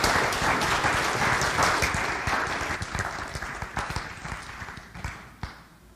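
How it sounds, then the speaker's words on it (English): A church congregation claps in a round of applause, individual claps distinct and fairly close, gradually thinning and fading toward the end. "Let's give them a round of applause for their participation."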